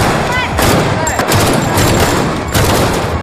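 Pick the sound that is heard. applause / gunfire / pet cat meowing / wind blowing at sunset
gunfire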